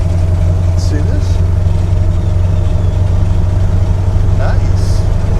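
A 1931 classic car fitted with a modern engine idles. Its low, even hum stays steady and close throughout, with faint voices in the background.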